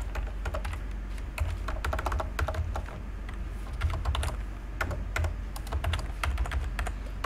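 Steady typing on a computer keyboard while writing a PHP script, rapid clustered key clicks in continuous bursts over a low background hum, close and moderately quiet, no voices.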